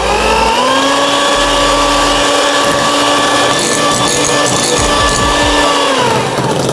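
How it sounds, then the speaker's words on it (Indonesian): Electric hand mixer whipping cake batter for a chocolate caramel pudding cake, a loud steady motor whine with a constant pitch that drops off near the end, with faint rattling of beaters against the bowl. "Mixer kembali hingga adonannya mengembang"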